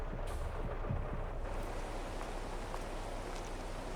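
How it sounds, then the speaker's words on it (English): Rain falling outdoors on a farm, a soft steady hiss of drops on surfaces with low wind rumble, fairly even and close throughout. "Really wasn't expecting it to rain."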